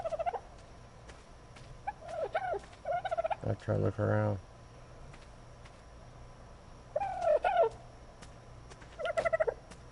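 Dodo birds in the ARK: Aberration video game give several bursts of clucking, gobbling calls, loud and near. Someone talks briefly between them.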